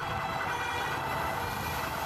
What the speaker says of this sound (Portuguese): Jair Bolsonaro seguiu de ambulância até o Hospital Albert Einstein